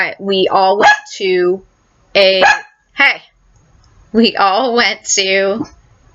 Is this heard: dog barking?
yes